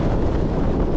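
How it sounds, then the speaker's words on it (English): Steady low rumbling wind buffeting the microphone, constant and close, with no voices. "Can you hear me? It's a little windy."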